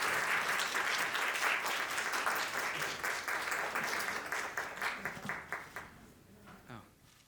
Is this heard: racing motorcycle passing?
no